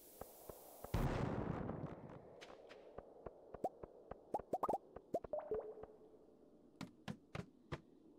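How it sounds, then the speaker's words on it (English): Bomb exploding in a Stardew Valley mine, a sudden loud blast that fades into a rumble, followed by a scatter of sharp small pops and clicks from falling debris. "I keep hurting myself with these bombs."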